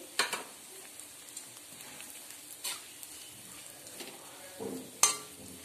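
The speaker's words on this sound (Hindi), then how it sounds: "हम नारियल के बुरादे को भी भून लेंगे" Grated coconut dry-roasting in a hot wok, heard as a faint, soft crackle with scattered light scrapes of stirring and a couple of sharper clicks near the end. No voices.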